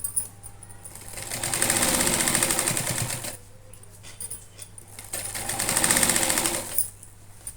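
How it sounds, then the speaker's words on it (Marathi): A sewing machine stitching a cloth bag runs in two steady bursts of rapid mechanical whirring, each a couple of seconds long, separated by quiet pauses; close and moderately loud with no talking. "एकदम व्यवस्थित शिवून घ्यायचं"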